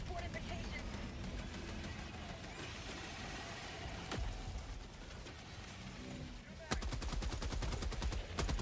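Heavy machine gun emplacements fire in Helldivers 2, a dense, continuous rattle of automatic gunfire with scattered impacts, switching to a sharper, rapid staccato burst near the end, with a voice talking over it.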